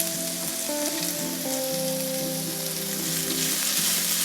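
Dried red chillies, coconut pieces and shallots sauté in hot oil with a continuous soft sizzle. A melodic tune plays alongside the frying, and no voice is heard.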